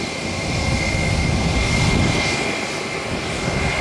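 Airliner jet engines at Tampa airport hold a steady, loud whine and roar as the plane waits to line up on the runway, one tone sustained throughout with no voices.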